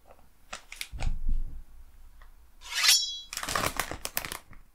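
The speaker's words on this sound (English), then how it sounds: "Cut cleanly along the line with scissors." Scissors cut along the printed line of a Japanese DIY candy kit package, giving several close, crisp snips and crinkles of thin packaging with short pauses between them.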